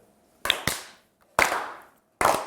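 On a Turkish TV word game show, an audience gives three short, sharp bursts of clapping, each quickly fading to quiet before the next, with no talking over them.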